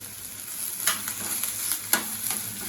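Onion roasting in a pan for a chicken curry masala, a bright continuous sizzle with a few quick stirring scrapes and two sharper clinks, close and steady, without voices.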